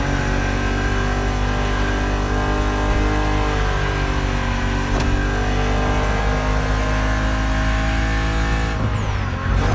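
A BMW Z roadster's engine in The Crew Motorfest holds a loud, steady drone throughout a race, shifting pitch near the end as it revs and changes gear, with no talking over it.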